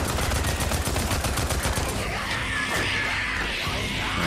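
A gun in Days Gone unloads on a zombie horde in a fast, steady stream of loud, close shots for about two seconds, then the firing stops and chaotic game noise carries on.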